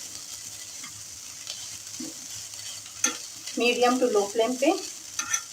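Green chillies and onions sizzle in a pan over a medium-low flame, the frying growing louder midway with bursts of stirring scrapes; a brief remark in Hindi is spoken near the start.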